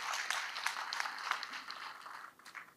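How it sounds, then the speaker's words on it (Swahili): Audience applause for Interior Cabinet Secretary Murkomen at a Jukwaa la Usalama security forum in Siaya, a steady wash of many hands clapping at moderate level that tapers slightly toward the end. "Makofi mazuri kwa Bwana CS."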